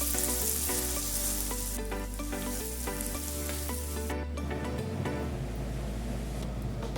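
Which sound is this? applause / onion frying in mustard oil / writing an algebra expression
onion frying in mustard oil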